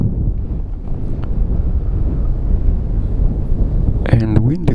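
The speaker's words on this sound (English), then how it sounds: "wind is now blowing completely from the other direction, more in my face, so something really strong is happening behind me" Strong gusting wind buffets the microphone at an FAI F5J electric model glider world championship junior flyoff in Trnava, a steady close roar throughout, with a brief voice rising near the end.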